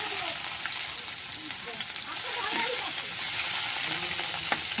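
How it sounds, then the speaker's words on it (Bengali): Food frying in a pan and being stirred slowly, a steady close sizzle with soft scraping movements throughout and no talk. "এবার এটাকে আস্তে আস্তে নাড়বো, নেড়ে নেবো আস্তে আস্তে যাতে না পুড়ে যায়।"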